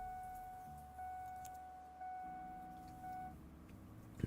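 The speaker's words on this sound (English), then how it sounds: "can you hear the beeping sound?" A car's door-open warning chime in Project Zomboid repeats as a steady electronic beep about once per second, faint and alone, stopping just before a soft knock at the end.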